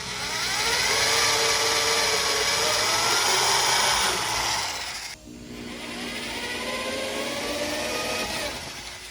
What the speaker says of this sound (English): I'm gonna drill a hole at the end here so the crack doesn't run on each side